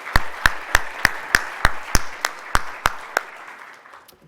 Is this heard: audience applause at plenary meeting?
yes